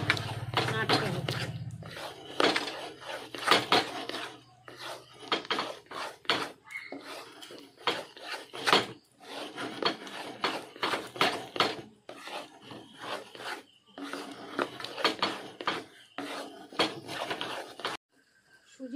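A spoon scrapes and rubs repeatedly against a pan while semolina is stirred with ghee over a gas flame. The scraping comes in rhythmic bursts with brief pauses.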